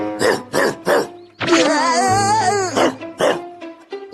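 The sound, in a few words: dog barking in a Doraemon cartoon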